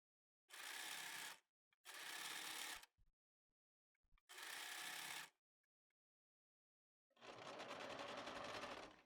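A sewing machine stitches a T-shirt sleeve in four close bursts, three short runs and a longer final one, with faint clicks and near silence between them.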